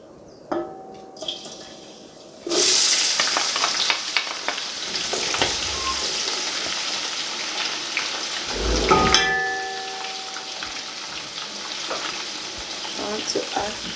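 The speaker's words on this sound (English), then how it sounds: "I've added groundnut oil. Now I want to add onions." Onions hit hot groundnut oil for Nigerian-style coconut rice and burst into a loud, steady sizzle after a quieter start, with a bright crackle and occasional stirring scrapes that carry on for the rest of the clip.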